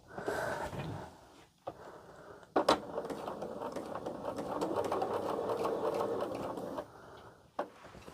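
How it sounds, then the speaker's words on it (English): A sewing machine stitches two quilt blocks into a larger panel, running in steady rapid bursts with brief pauses and a few clunks between seams, close by and moderately quiet. "take these two and sew them together to make a larger panel"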